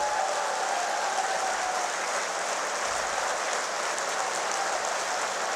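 A large crowd at an outdoor statue unveiling ceremony claps continuously, a dense, steady wash of applause that stays loud and even without pauses.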